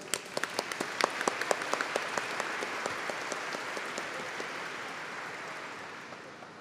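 Audience applause fills a solemn session for the swearing-in of the Crefito 2 board at the Rio de Janeiro state legislative assembly. A dense, steady wash of many hands clapping comes in loud and slowly thins and fades toward the end.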